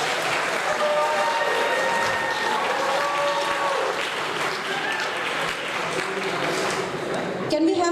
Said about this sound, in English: Let's give a round of applause to the wonderful performers who performed till now.